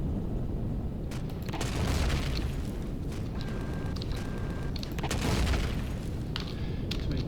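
Drone base turrets in the Empyrion space game fire in dense bursts of gunfire over a rumbling, booming backdrop, with explosions swelling at intervals and a brief high electronic tone sounding twice.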